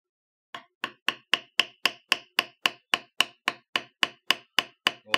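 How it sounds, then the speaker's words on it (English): A mallet strikes a bevel tool on tooled leather, producing a steady series of about eighteen crisp, evenly spaced taps, close and clear in an otherwise quiet room. "I'm up to step 6, which is to bevel the pattern, starting with the border."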